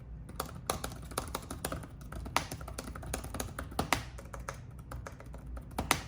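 Typing on a Lenovo ThinkPad P17 laptop keyboard, a quick irregular run of crisp key taps and clicks, close and clear with no voices.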